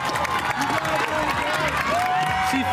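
Crowd at the boys large-school cross-country race finish at the Manchester Invitational, cheering and clapping loudly and continuously, with shouts and whoops rising over the applause.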